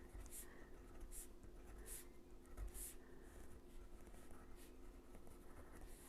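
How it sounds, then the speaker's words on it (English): Faint, scratchy pencil strokes trace over a drawing on paper during a grade-school oil pastel printmaking lesson, coming in soft, irregular bursts over a quiet room background. "So you would trace over everything."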